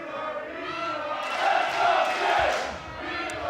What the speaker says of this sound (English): the crowd is divided here as they cheer on both Jay White and Wheeler Yuta